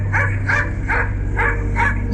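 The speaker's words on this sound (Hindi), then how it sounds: "उसके कुछ देर बाद ही उसने भौंकना शुरू किया" A dog barks repeatedly in a quick, even rhythm, five sharp yaps close by over a low steady hum.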